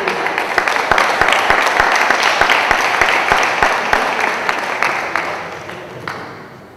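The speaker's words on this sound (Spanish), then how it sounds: "para los cuales yo pido un gran aplauso" Audience applause at a Lima Sur forum on people with disabilities, a dense steady wash of many clapping hands with sharper individual claps, sustained for several seconds before thinning out near the end.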